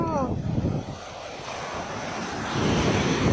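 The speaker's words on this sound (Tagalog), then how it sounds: "ang lakas ng alon" Strong surf breaks on the white-sand beach of Baler, Aurora, a continuous roar of waves with heavy wind buffeting the microphone and a brief voice at the start.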